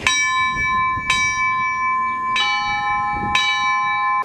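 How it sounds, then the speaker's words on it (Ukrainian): Church bells hang in the arches of the third tier of a bell tower that holds seven bells, the largest weighing 450 kilograms. Four loud, clear strikes ring out, each with a long shimmering ring, and a faint rumble sits underneath. "Самі ж дзвони розташовані в арках третього ярусу."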